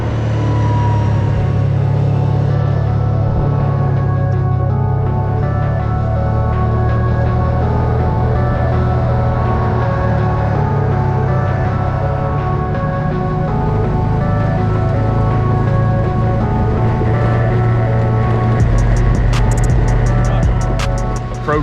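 A Kawasaki Teryx UTV drives along a snowy winter trail with a steady, loud engine drone and constant rumble that hold evenly throughout.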